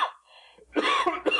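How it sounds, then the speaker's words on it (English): A man gives a harsh, repeated cough in two or three rough bursts, close and loud, after a short pause. A narrated reading of a short story surrounds it. "How long have you had that cough?"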